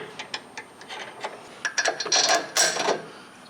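A socket ratchet on factory hardware clicks in quick, close bursts while securing the sway bar link on a Jeep JL Wrangler during a 2.5-inch lift install, building into denser, louder ratcheting toward the end.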